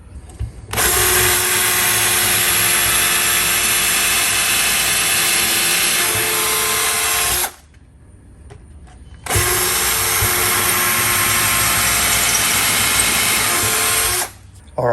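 A power drill boring pilot holes into a metal wall-charger bracket, two long loud whining runs of about seven and five seconds separated by a short quiet gap.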